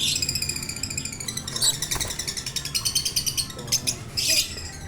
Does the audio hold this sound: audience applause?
no